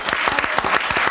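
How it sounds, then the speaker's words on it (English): A brief burst of studio audience applause in a television studio, loud and close, with dense overlapping claps. "I think we should have a round of applause,"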